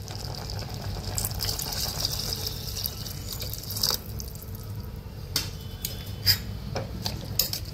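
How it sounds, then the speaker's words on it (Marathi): Water is poured into a pot of spinach dal, giving a continuous close splashing and gurgling pour that runs for several seconds, with a few sharp clinks and drips near the end and no talking. "आता ह्याच्यामध्ये आपल्याला आवश्यकतेनुसार 1 पातेलभर पाणी टाकायचं"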